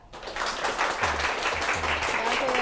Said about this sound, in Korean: 신혜성 대표님을 큰 박수로 모셔볼게요.